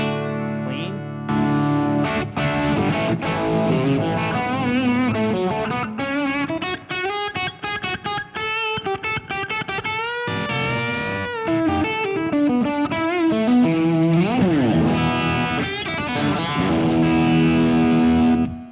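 An electric guitar through a hand-wired Princeton amp on a clean setting plays a lively riff for nearly twenty seconds, mixing ringing chords and single-note runs with bends, loud and close.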